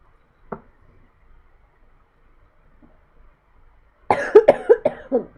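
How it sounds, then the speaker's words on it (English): A single faint throat sound, then after a quiet pause a close, loud fit of rapid coughs, four or five in a row, from handling Naga chilli peppers. "That's made me cough now"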